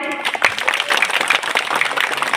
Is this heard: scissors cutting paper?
no